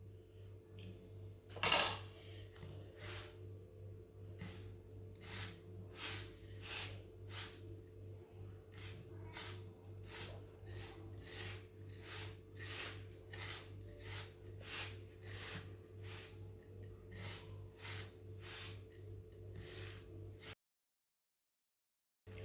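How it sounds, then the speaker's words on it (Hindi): Flaxseed pinni mixture is worked by hand in a bowl, producing a steady run of soft rhythmic scrapes and light clinks at close range, with a louder knock near the start. "अब इसे हाथ के साथ मिक्स कर लेंगे।"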